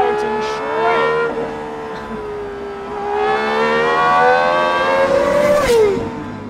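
A GMA T.50 supercar engine shrieks loudly, revving toward a 12,000 rpm limiter, pitch climbing and dropping through several sustained runs, sharp and piercing, with no voices.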